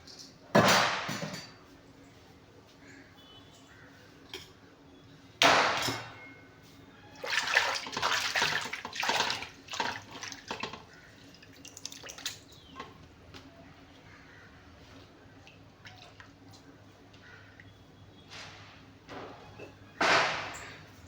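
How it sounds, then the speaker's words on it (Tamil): Ingredients get swished and rinsed by hand in a container of water in a home kitchen, with bursts of close splashing separated by quiet pauses. "இதெல்லாம் தண்ணியில் போட்டு அலசி எடுத்து வச்சிருவேன்."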